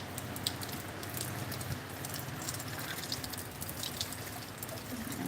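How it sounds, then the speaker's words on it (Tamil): Steady rain falls on a village during Cyclone Fengal, a continuous, fairly soft hiss of drops and trickling water with no break, heard alone without any voices. "இங்கே நல்லா மழை பெஞ்சிட்ருக்கு"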